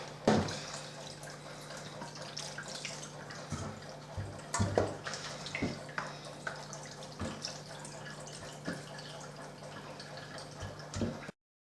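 Raw chicken rinsed under a running kitchen tap: continuous splashing water with irregular drips and clatters, close and moderately loud, with no talking.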